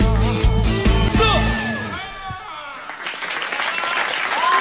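Studio audience applause on a live Korean radio show broadcast, starting under music and voices, then settling into a steady, fairly loud wash of clapping that carries alone to the end.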